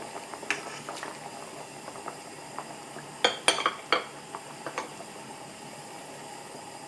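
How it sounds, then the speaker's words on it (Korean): Leftover Chuseok fish-head stew with greens bubbles in a pot, a low simmering burble under a few clinks and scrapes of a utensil against the pot, no talking. "그리고 이제 한 소끔 또 끓이고 나면 그때 전을 넣어야 돼요"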